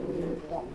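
A pigeon in a breeder's cage gives a soft, low, throaty coo, brief and fairly close, against faint background noise.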